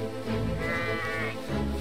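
Sheep bleat in the World War I video game Valiant Hearts: The Great War, a drawn-out wavering cry heard close over a dense, loud game soundtrack.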